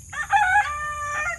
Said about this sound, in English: But I think you's a rooster,